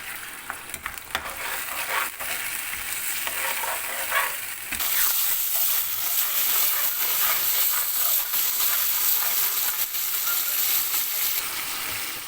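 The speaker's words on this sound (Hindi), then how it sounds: "अब मैं इसके अंदर गोश्त डाल रहा हूँ। इसको हम लो फ्लेम पे भून लेंगे।" Mutton frying in a karahi over a low flame, a dense crackling sizzle that jumps louder a few seconds in as the meat goes into the oil, then holds steady with occasional stirring.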